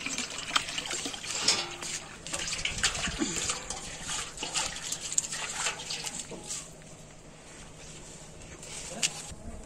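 Rainwater splashing and trickling as utensils are washed and rinsed in basins outdoors, with irregular pours, sloshes and clinks of dishes; the water grows quieter and steadier toward the end.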